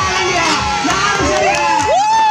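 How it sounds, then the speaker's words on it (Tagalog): A crowd at a motocross event cheers, whoops and shouts loudly and continuously up close, with voices rising and falling through the noise. "Palakpak sa asawa ni Valdez"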